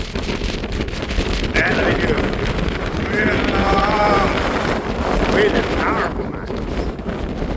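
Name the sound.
strong wind in Glacier National Park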